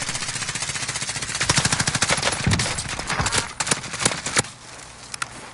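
Gunfire in Modern Warfare Warzone, with a sniper rifle in the mix: a fast run of sharp, loud shots that packs into dense bursts, then tails off into scattered cracks over a steady background hiss.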